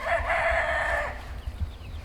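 Roosters and cockerels from a flock of nine crowing, one long loud crow lasting about a second, followed by quieter clucking and rustling close by, with no talk.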